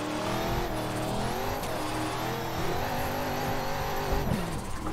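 A BMW E92 in a racing video game drifts with continuous high engine revving and rising and falling gear tones, loud and constant throughout, with tire squeal layered over the engine.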